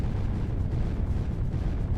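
Super cannons in the video game Creeper World 3 fire in a dense, rumbling barrage of low booms, continuous and heavy throughout without any voices.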